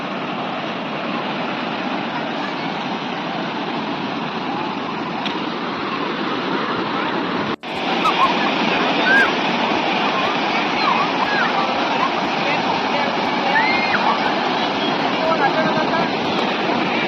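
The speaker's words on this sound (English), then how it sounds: "I'm heading to the beach." Sea waves wash continuously onto a beach in Mangalore, a loud, steady surf roar that carries on alone throughout.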